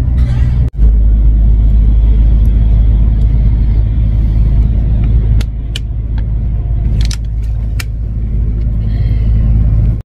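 A road vehicle travels toward Prienai in Lithuania, heard from inside as a loud, steady low rumble that persists throughout, with a sharp dropout near the start and a few brief clicks and rattles later on.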